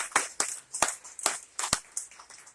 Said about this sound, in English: I would really appreciate if everybody gives Ed an awesome round of applause for pulling together yet a great another event